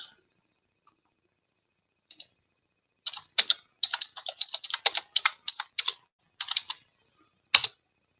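Someone types on a computer keyboard close by, first a few isolated key clicks and then a quick, irregular run of sharp taps, ending with one firmer keystroke.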